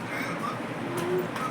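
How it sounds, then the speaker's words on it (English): A small pigeon or dove coos softly at home, a few low, gentle notes sitting over a steady background hum, fairly faint and without talk. "this little bird"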